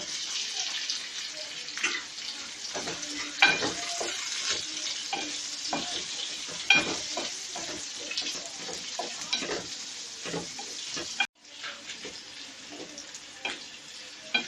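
Mutton liver sizzles loudly in a pan with softened onions while a utensil stirs and scrapes through it, a steady crackling hiss broken by a brief pause near the end.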